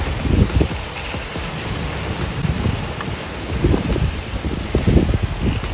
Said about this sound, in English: it's really windy right now and it's pouring rain